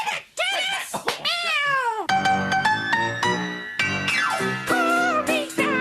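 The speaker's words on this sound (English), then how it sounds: "Meow." A cat meows several times in rising, drawn-out calls, then music with sung tones takes over for the rest of the clip.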